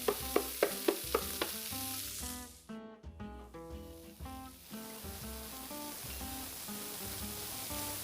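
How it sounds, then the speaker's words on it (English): Onions and celery hit hot oil in an old cast iron pot, a bright hissing sizzle after a few sharp knocks at the start, with a tonal ringing layered over the frying throughout. "a little bit of oil, and we start with the onions and the celery"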